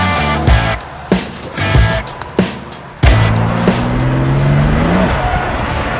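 A modified BMW M4 convertible, top down on a cold Chicago day, revs hard through several quick gear changes, engine note climbing and cutting sharply, loud and close, then pulling into a long rising whine.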